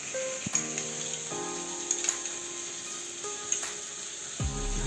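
Spice paste of cumin powder and salt mixed with water frying in hot oil, a steady soft sizzle with a few brief crackles and stirring scrapes, no talk.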